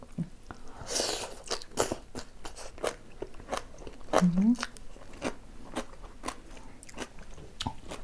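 Crunchy pickled shallots are bitten and chewed up close, eaten noisily alongside a spicy water-spinach som tam. The crisp crunches repeat steadily, with a voice faintly present.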